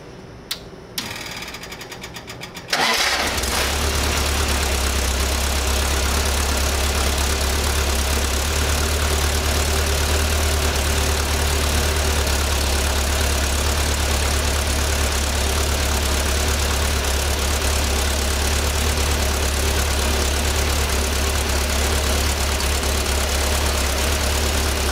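A VW Type 1 air-cooled engine with dual carburetors cranks for a few seconds, catches, then settles into a loud, steady, close-up idle with an even mechanical clatter that runs on unbroken.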